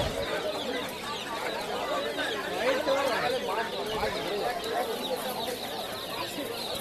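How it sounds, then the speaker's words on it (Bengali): Chicks and fowl at a Kolkata pet market, a dense chorus of cheeping and clucking crowd noise that stays steady and fairly close, mixed with people talking. "এইটা দেখতে পাচ্ছ মুরগির বাচ্চা।"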